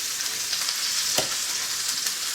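Lamb on the bone searing in a hot pan, a loud, even sizzle throughout with a single sharp tap partway, close and uninterrupted by speech.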